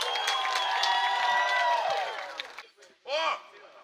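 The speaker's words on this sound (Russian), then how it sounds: "эти аплодисменты не нам, эти аплодисменты вашим же мамам" An audience at a festival concert applauds and cheers, a crowd roar with some whoops that fades out, followed by a short burst of raised voices near the end.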